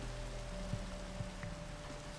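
Steady rain pattering down in Minecraft, a continuous soft hiss of drops with a few faint thuds over a low background hum, no talking.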